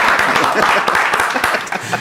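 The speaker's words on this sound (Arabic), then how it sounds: "صفقوا على بعضياتنا" A studio audience on a Moroccan late-night talk show breaks into steady, dense applause, many hands clapping at once in a continuous close wash.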